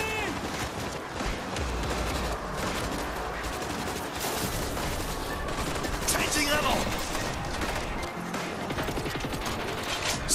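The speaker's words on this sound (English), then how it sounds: "stationary machine gun in position" A stationary machine gun in World War Z fires in a long, continuous rattling stream with mechanical clatter, dense and sustained, while speech and battle noise run underneath.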